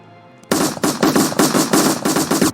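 Rapid bursts of gunfire in the Roblox game East Brickton, about eight loud close shots in a quick uneven rhythm that begin abruptly after a brief quiet stretch.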